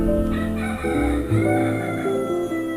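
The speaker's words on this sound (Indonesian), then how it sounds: "Sorry kalau ada suara ayam ya" A rooster crows near the microphone, one long drawn-out call with a wavering pitch, loud and clear, with no other sound over it.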